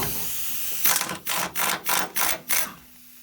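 A ratchet breaks loose and spins off Loctite-coated 19mm bolts on an OEM hitch receiver of a 2007-2013 Toyota Tundra: five loud, evenly spaced bursts of rapid clicking, close up, with no talk.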